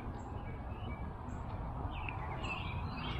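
Faint, scattered bird chirps over a steady, low rumbling background of distant outdoor noise, without any talking.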